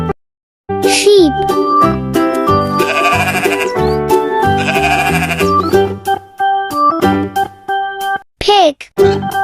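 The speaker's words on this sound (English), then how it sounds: "Sheep." Sheep bleats, wavering and close, come in short bursts mid-clip and near the end, layered over a cheerful jingly children's tune.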